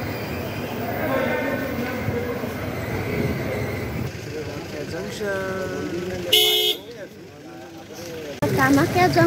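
Train noise at Kamakhya Junction in Guwahati, Assam, at night: steady rumble and station din with a brief loud horn-like toot near the end, mostly under continuous talk.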